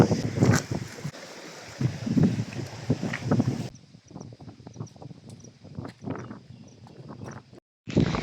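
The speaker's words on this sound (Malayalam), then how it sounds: "നല്ല കാറ്റ്" Strong gusty wind in Madha, Oman buffets the microphone with rough, rumbling bursts that ease off partway through, then surge again at the end.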